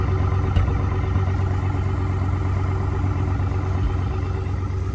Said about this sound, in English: it's still on its fast idle since we just started it up